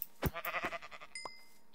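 Sheep in the Minecraft video game bleating, a faint quavering bleat followed by a short pulsing series, quiet and alone with a brief electronic tone near the end.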